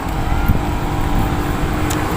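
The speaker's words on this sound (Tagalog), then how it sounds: "ang bibilis ng mga motor oh" Traffic on a highway in Bay, Laguna, with cars and motorcycles rushing past in a continuous, fairly loud roadside roar and no talk.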